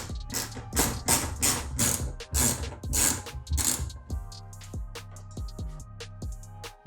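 A ratchet from a Supra tool kit backs out tiny bolts on a Toyota A90 Supra intake, with a quick, close, dense clicking that turns into slower single clicks and soft taps near the end.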